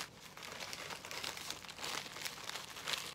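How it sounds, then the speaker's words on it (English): Oreo cookies being smashed inside a plastic bag make a close, continuous crinkling and crunching with irregular bursts of louder rustle. "So I just like smash them in this bag real quick, because it's honestly a lot faster."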